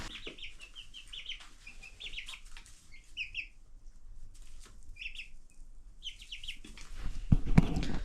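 Baby chicks peep and chirp in short bright bursts near a scrap-wood roost, with soft flapping and rustling, then a louder knock and thump toward the end.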